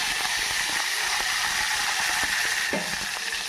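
Curry leaves sizzle in hot oil already holding lentils, mustard seeds and cumin, giving a steady bright hiss with faint crackles and pops throughout.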